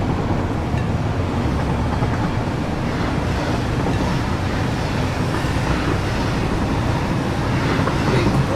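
A video game train rolls steadily along its rails, a loud, continuous low rumble with faint rhythmic clatter and no pauses.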